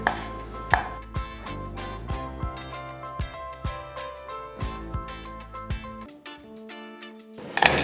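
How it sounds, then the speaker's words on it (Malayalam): Garlic cloves, six of them, are crushed for a Kerala-style prawn biryani, heard as a series of sharp knocks on a hard surface at an uneven, roughly half-second rhythm, close and clear, with a louder clatter at the end. "ഗാർലിക്ക് ഇതുപോലെ എടുത്ത് ക്രഷ് ചെയ്യുക."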